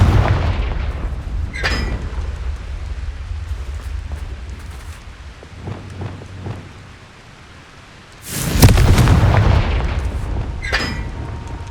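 A Confringo blasting spell goes off in the video game Hogwarts Legacy, a loud booming explosion burst after quieter rumbling and crackling ambience, with a sharp impact near the end.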